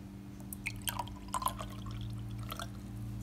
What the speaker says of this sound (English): I'm gonna pour it so you guys can see how it looks